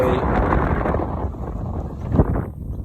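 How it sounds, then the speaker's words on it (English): Gusty outdoor wind buffets the microphone with a loud low rumbling roar that swells and eases, dropping off near the end, with no clear speech. "it is a bit windy"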